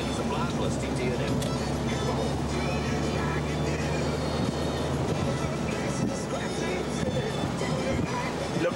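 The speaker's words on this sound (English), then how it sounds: "Look at the train." A steady rumble of road and engine noise fills the cabin of a moving 1999 VW 1303 Super Beetle Automatic on a North American highway, with a passing train blended into the continuous drone and voices murmuring in the car.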